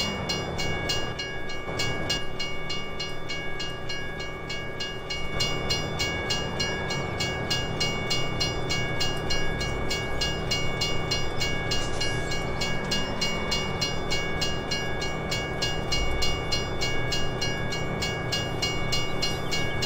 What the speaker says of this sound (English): This is the transfer train right here.